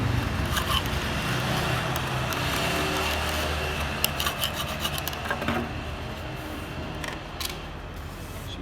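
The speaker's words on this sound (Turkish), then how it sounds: "Ve sıcağın etkisiyle çok daha kolay soyuluyor." Continuous rough scraping and rasping as heat-softened wood veneer trim is peeled off a Mercedes W124, steady and close, with occasional small ticks and clicks.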